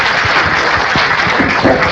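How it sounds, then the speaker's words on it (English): Audience applause for two candidates at a community candidate forum, a brief burst of steady clapping from a room of people, fairly loud and uninterrupted. "if we could give applause to both candidates"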